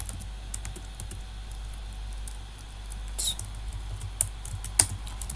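Fast, light clatter of keys on a computer keyboard while code is written, quiet and close, in irregular bursts with a few sharper, louder clicks and no voices.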